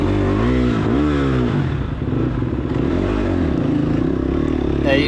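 A dirt bike's engine revs and throttles on a slippery floor during a hot, dusty off-road ride at McMahan's Ranch. Loud, close rising and falling engine tones come with bursts of throttle, and clatter and scraping run underneath.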